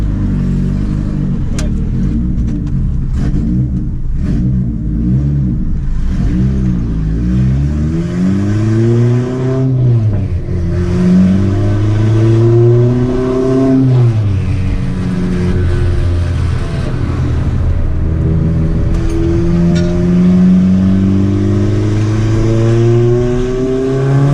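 A turbocharged Honda Civic with a straight-piped exhaust revs loudly, its engine note rising and falling through repeated throttle blips before settling into a strong sustained drone, with someone talking over it at times.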